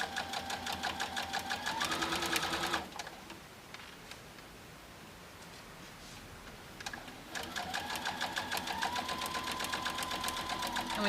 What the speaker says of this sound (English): and now I can go ahead and put this underneath the sewing machine